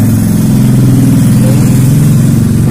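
A Honda Beat scooter engine with sluggish initial pickup that sputters and stalls off throttle runs steadily at a close, loud, even drone, with no talk over it.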